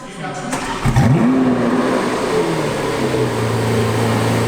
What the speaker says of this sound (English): when the V8 comes rolling in. Oh, the beast is coming.